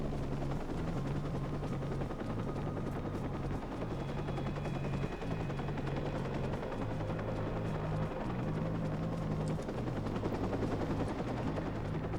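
A helicopter in the video game Watch Dogs thumps with steady rotor chop and a droning engine hum throughout, continuous and fairly close, with no talking.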